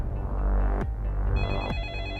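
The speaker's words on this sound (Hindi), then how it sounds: "फोन उठा लो।" A telephone rings in a busy police station amid a low background hum, its electronic ringtone tones repeating steadily through the second half.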